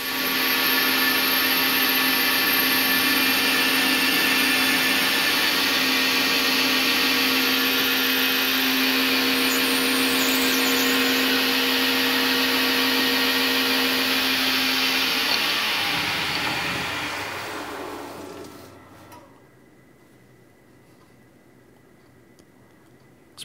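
A metal lathe turns the main body of a part, whining steadily and loudly with a sustained tonal hum for about fifteen seconds before spinning down and fading to quiet.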